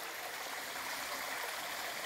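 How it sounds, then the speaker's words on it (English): A stream flows beside a moist, fern-covered slope, giving a steady, close rushing and gurgling hiss that holds even throughout, with no voices. "it's next to a beautiful stream. You can hear it."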